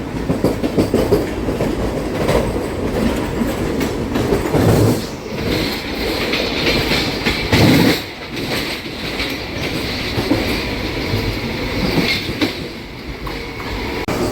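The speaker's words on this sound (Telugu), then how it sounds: "అమృత్ భారత్ ట్రైన్ వెళ్ళిపోతుంది" Amrit Bharat express train rushing past close by, heard from aboard a MEMU train, a loud sustained roar with rhythmic wheel clatter and brief dips as carriages pass, no talking.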